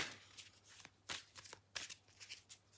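A deck of oracle cards is shuffled in soft, quiet bursts of riffling and flicking, several short rustles close to the microphone.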